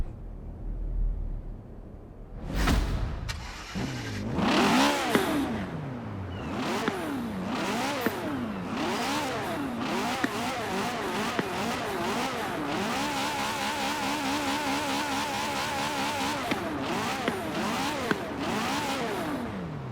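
A Ferrari F40 Competizione race car in Forza Horizon 4 starts up with a loud bark, then revs repeatedly. Rising and falling engine sweeps lead into a sustained high-pitched idle and throttle blips with no talk.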